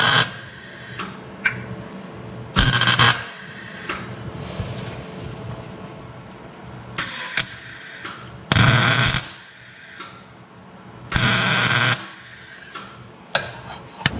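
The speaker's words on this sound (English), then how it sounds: "So we're just going to weld it on a little bit off of where the other one was." A weld-in stud is fused onto the body metal of a Mazda RX-7 FC with an LS swap. Several loud, harsh crackling bursts, each lasting about a second, are separated by quieter gaps.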